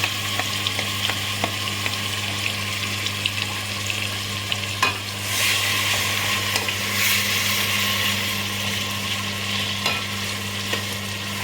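Chicken pieces fry over a medium flame in hot oil for a home-style biryani. A steady, dense sizzle holds close and loud throughout, with intermittent scraping taps from stirring and a low constant hum underneath.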